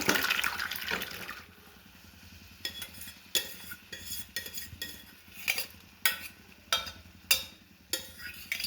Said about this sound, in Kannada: ಇಗ ಬೇಸಿರೋ ತಿಕ್ಕವರೆ ಕಾಳು ಮತ್ತೆ ಹುಕೋಸು ಮತ್ತೆ ಆಲೂಗಡ್ಡೆ ಇಷ್ಟನ್ನು ಹಾಕ್ತಾಯಿದ್ದೀನಿ